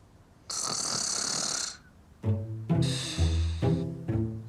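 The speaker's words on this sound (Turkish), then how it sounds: "horluyor mu lan o?" A sleeping person snores loudly and close by: a long hissing inhale followed by a series of rough, rattling snorts in an uneven rhythm, with no talk over it.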